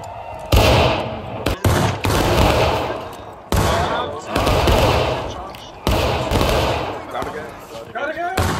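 Musket volleys and scattered rifle fire crash out in several loud bursts during a large War of Rights battle event, with shouted voices heard in between.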